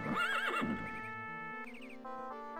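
Horse whinny in The Elder Scrolls II: Daggerfall, a loud wavering neigh followed by a steady electronic game tone with plodding hoofbeat notes, and no talking.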